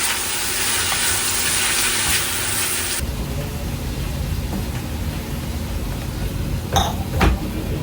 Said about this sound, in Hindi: यहाँ पर तो ग्रेवी के लिए प्याज, टमाटर वगैरह, काजू ये सब भून रहे हैं